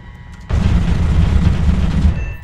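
An F-4F's Vulcan rotary cannon fires a single continuous, loud buzzing burst lasting about a second and a half at a Harrier in the combat flight game War Thunder, over a low engine drone.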